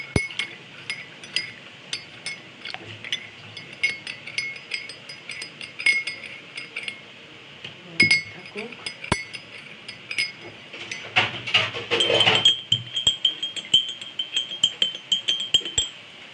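A spoon clinks against a glass while honey is stirred into tea, with repeated light metallic taps close by and a denser flurry of clinks near the end. No one speaks.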